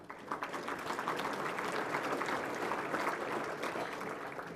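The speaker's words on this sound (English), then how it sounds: "And another round of applause for those two gentlemen." Steady clapping from a seated crowd at a university scholarship ring banquet, filling a hall with dense, even applause for a few seconds before it begins to taper.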